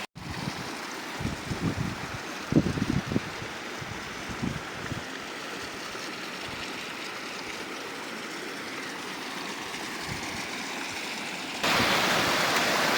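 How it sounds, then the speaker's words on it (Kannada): Water pours over rocks at Jadamadagu waterfall, a steady broadband rush heard close and continuous, with a few brief thumps early on and a sudden louder burst near the end. "ನಾನು ನೋಡಿ ಈ ಕಡೆ ಎಲ್ಲ ಬಂಡೆ ಮೇಲೆ ತುಂಬ ನೀರು ಬರ್ತಿರ್ತವೆ."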